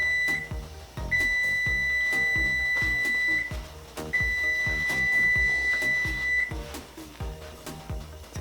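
An oven timer beeps in a kitchen while banana bars bake, sounding two long, loud electronic tones separated by a pause, with clattering kitchen noises underneath.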